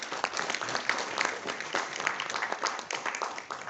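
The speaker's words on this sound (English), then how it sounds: "Let's give them a big applause." An audience at a PHD Chamber of Commerce and Industry address gives sustained applause, a steady stream of many hands clapping at an even level throughout.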